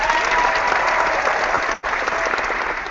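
Sustained applause from an online audience giving a virtual standing ovation, dense steady clapping that briefly drops out near the end before resuming at full strength.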